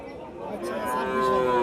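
Cattle moo in a drawn-out, rising low call, close by, with a busy market murmur of voices in the background, at the Chaubaria cattle market.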